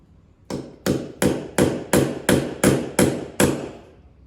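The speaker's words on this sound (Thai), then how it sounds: "แล้วก็ตอกตะปูรัดไว้" Nails are hammered by hand during bathroom construction, nine sharp, evenly spaced blows in a steady rhythm, loud and close with short ringing decays and no voices.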